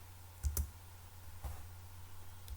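Faint keystrokes on a computer keyboard during a search-box entry: a few quiet, separated clicks, two close together and then a couple more spaced apart, over a low steady hum.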